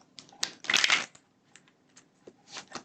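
A deck of tarot cards is shuffled nearby: a short riffling burst followed by a few softer taps and flicks.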